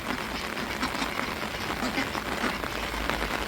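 Steady rain pours down at a seaside town beach, a dense continuous hiss of drops striking surfaces, close and loud, with no letup and no voices.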